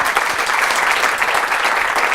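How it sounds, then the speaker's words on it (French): A French TV game-show audience applauds a female winner at the end of the broadcast, dense steady clapping filling the room without a break for the whole stretch. "J'aimerais qu'on applaudisse notre gagnante ce soir"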